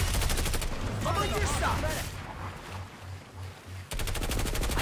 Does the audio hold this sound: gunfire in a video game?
yes